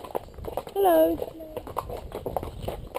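Steady clip-clop of cob horse hooves on a hard road at a walking pace, close by, with a voice speaking over them.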